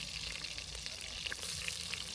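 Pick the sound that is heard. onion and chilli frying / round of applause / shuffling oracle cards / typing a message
onion and chilli frying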